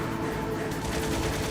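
Rapid gunfire from a boss in Metal Gear Solid rattles in a dense, continuous stream, loud and close, with no pauses across the short stretch.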